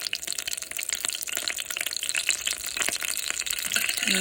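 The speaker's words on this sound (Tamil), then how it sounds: "கடாயில் கொஞ்சம் ஆயில் போட்டு கடுகு உளுந்து கருவேப்பிலையை போட்டு தாளிச்சுக்கிறணும்" Mustard seeds, urad dal and curry leaves tempering in hot oil in a kadai; a dense, close sizzle with fine crackling pops throughout, no talking.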